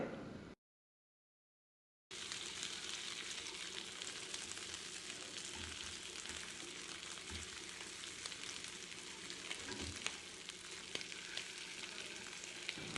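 Charcoal pieces are roasted over an open flame for mutton mandi; after a brief silence, a steady crackling hiss runs continuously, with faint occasional pops.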